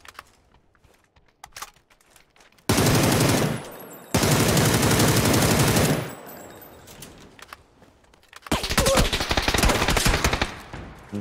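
Video game gunfire comes in loud sustained automatic bursts, two long back-to-back volleys and a later rattling stretch, with quiet clicks and keyboard taps between, no talking.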